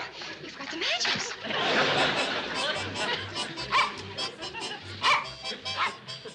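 A dog yips and barks in short bursts amid a lively television sitcom scene, with voices and bustle over the repeated barks.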